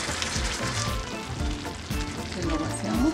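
Meat-cooking broth is poured into a hot pan during preparation of barbecue ribs, giving a steady, close sizzle and frying hiss that swells slightly toward the end.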